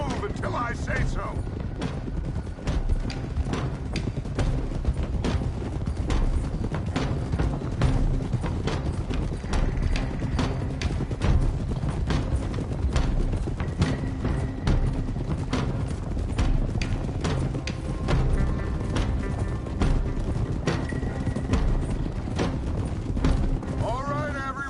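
Horses gallop in Red Dead Redemption 2, a dense, steady run of hoofbeats that carries through the whole stretch, loud and close, with game voices and scoring layered over it.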